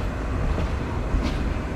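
Steady rumble and rattle of the Shimanto Express passenger train running between Chilahati and Khulna, heard from onboard as a continuous, fairly loud drone with no talk.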